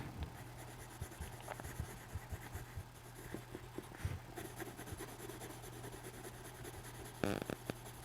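A black colored pencil scratches steadily across paper while someone colors in a drawing of a green pepper, making soft, continuous rubbing strokes throughout, faint and close, with a low hum underneath and no talking.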